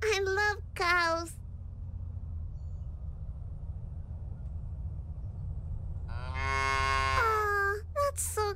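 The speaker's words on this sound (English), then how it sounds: "There's a bunch of cows on the field." Cows in the Little Misfortune video game moo on a field, with two short calls at the start and a longer, louder low moo near the end over a quiet rumbling background.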